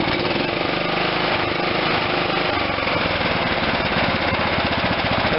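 A Kohler CV460s engine on a John Deere LT160 lawn tractor with a replaced carburetor runs steadily and loudly up close, holding a continuous droning roar with a slight rise in pitch as it revs.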